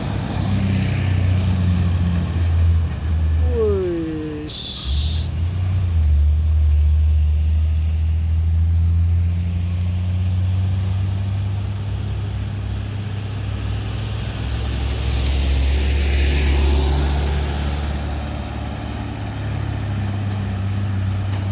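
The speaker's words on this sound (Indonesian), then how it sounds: "Ini dia truk trailer. Kosong muatan, langsung tancap gas." An empty trailer truck powers uphill in heavy rain, its engine holding a loud, sustained low drone that swells and eases across the stretch, with a brief whine and steady rain hiss behind it.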